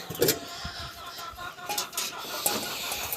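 Chicks peeping and clucking softly near a small duckling pen with a water bowl, a few scattered chirps over quiet background noise, no voices.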